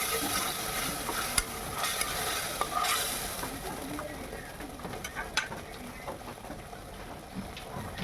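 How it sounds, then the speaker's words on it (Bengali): Spices with turmeric powder and salt are stirred in oil in a frying pan, a steady sizzle with scraping stir strokes throughout, alongside faint bird coos in the background. "নেড়ে চেড়ে নিচ্ছি।"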